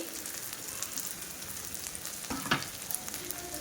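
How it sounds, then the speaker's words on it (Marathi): Capsicum and cabbage stir-frying in a pan on full gas for jowar hakka noodles, a steady hiss of sizzling with scattered crackles and a brief louder scrape of stirring midway. "शिमला मिरची पण घालणार आहोत आणि पत्ताकोबी पण घालणार आहोत आणि हे आपल्याला फुल गॅसवरच फ्राय करून घ्यायचे आहे."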